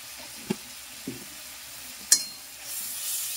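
Spices, turmeric and chili powder cooked with soybean and chana dal in a pan, a low steady sizzle with a few sharp clinks and scrapes of stirring, rising to a brighter hiss near the end, no talk.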